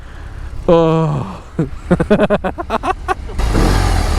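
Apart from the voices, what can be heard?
BMW R18 motorcycle engine revving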